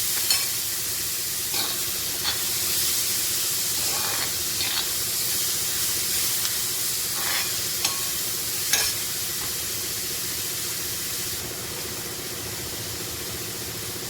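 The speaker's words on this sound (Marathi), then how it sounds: "बारीक मेथी कापलेली एक थोडंसं परतून घ्यायचं कांदा आपलं" Chopped onion and fenugreek sauté in a pan on a tawa, a steady loud sizzle with occasional scraping stirs, close and continuous throughout.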